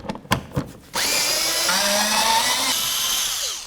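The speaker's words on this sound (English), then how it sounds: "We're going to use our 8mm, remove this bolt and this bolt." A power tool with an 8mm bit spins out bolts on a 2009–2016 Mercedes-Benz E350, a few handling knocks followed by a sustained, close, whining drill sound that slowly fades at the end.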